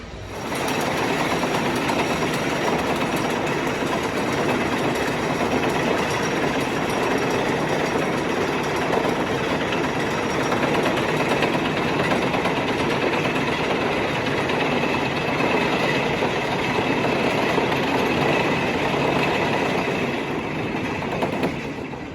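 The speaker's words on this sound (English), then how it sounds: "It's another RMC topper track wooden coaster." A steady, loud rumble and roar from a ride on Outlaw Run, an RMC Topper Track wooden roller coaster, runs continuously with no pauses and no talking.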